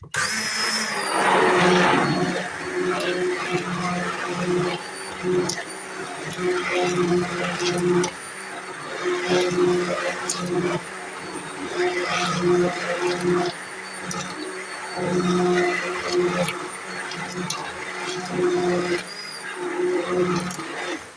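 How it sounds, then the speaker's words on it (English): A hand blender whirs through pancake sauce in bursts, its motor whine rising and dropping as it is pulsed on and off over about twenty seconds, close up. "it's going to thin down when we put the hand blender through it"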